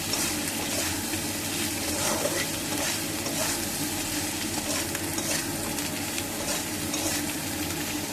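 Spices with turmeric and cumin powder sizzle steadily in a pan while being stirred and sautéed, a dense continuous frying hiss with scraping spatula strokes, close and even throughout, no talking.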